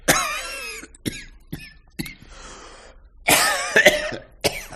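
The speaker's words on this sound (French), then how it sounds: "Je n'aime pas beaucoup cette toux." Several harsh coughs and throat-clearing bursts in quick succession, close and fairly loud, with short pauses between them.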